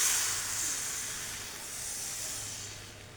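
Dadar gulung batter going into a hot oiled Teflon pan on a stove gives a steady soft hiss and sizzle, fading slightly and swelling again, with no talk.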